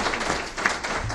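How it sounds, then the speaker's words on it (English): A crowd breaks into applause following a panel discussion on intergenerational learning, a brief, fairly loud wash of mixed clapping heard close up. "I think a round of applause would be."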